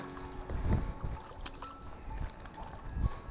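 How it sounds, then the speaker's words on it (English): Gusty wind buffets the microphone in low rumbling surges, with faint water and boat sounds in the background and no talking. "On the squawk again, getting very, very windy"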